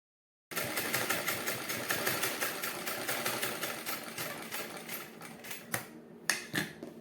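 A sewing machine stitches fabric for a baby cap, running in a steady rapid mechanical rattle for several seconds, then stopping and restarting in a few short bursts.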